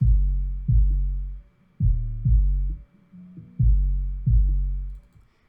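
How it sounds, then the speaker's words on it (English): Deep, booming soloed bass notes of a beat mastered in FL Studio play alone in a slow repeating pattern, each long sustained tone swelling and fading with brief gaps between. "all you hear is the bass"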